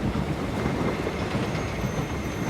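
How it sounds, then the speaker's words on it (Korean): A train rolls steadily along the track on the snowy Vikendi map of the battle royale game PUBG, a dense continuous rumble with faint wheel squeal and no voices. "칙칙폭폭"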